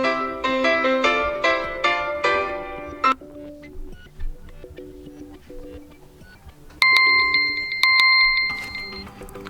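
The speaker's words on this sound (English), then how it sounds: "tap on ringtone, and select new ringtone from this alarm from the list." Alarm ringtone from a Xiaomi 11T Pro phone plays alone, cycling through a bright melodic chime phrase that shifts partway into a sharper, beeping electronic pattern, steady and fairly loud throughout.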